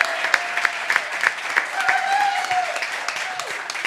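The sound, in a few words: audience applauding a contestant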